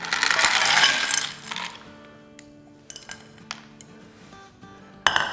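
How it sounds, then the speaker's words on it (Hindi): A dish filled with lots of ice, a loud rush of cubes clattering in at first, then scattered clinks and settling tinkles, with one more sharp clink at the end. "और अब इसमें हम डालेंगे ढेर सारी बर्फ़।"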